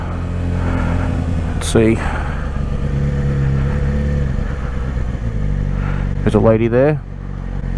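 A motorcycle's engine runs and revs as it rides along a street, rumbling steadily with a few sharp revs, while someone talks over it.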